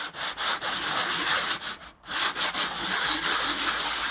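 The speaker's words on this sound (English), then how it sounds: "Just cleaning it up with some sandpaper." Sandpaper scrubbing old garage-stored wood, rapid rhythmic back-and-forth rasping strokes, close and fairly quiet, with a brief pause midway.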